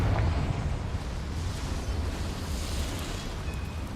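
The Confringo fire spell goes off in Hogwarts Legacy as a continuous, loud, rumbling blast, heavy and low, with a roaring burst that holds steady for about four seconds and does not fade.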